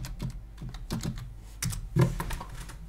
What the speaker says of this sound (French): on va chercher, on va taper D à coudre